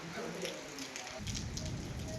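Heavy rain falling in Changlang, Arunachal Pradesh, a soft continuous hiss of drops with faint patter on surfaces, quiet and steady, with a low rumble rising partway through.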